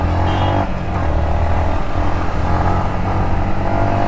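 A Yamaha MT15 motorcycle ridden at steady speed, its engine droning loud and continuous with a low hum and rushing wind, no talking over it.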